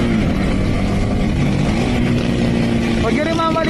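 A Honda Winner X motorcycle engine drones steadily while riding, a loud continuous tone with a brief rise near the end, and a voice speaks over it.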